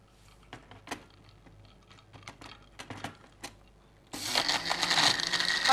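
An electric blender whirs on salad drink ingredients, starting suddenly and loudly near the end after a few soft taps and clicks, then running as a strong, steady roar.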